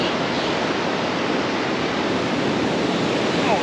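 Turbulent, muddy water churns beneath an Alabama fishing pier, a loud, steady broadband rush that fills the whole stretch without pause, like surf or a waterfall up close.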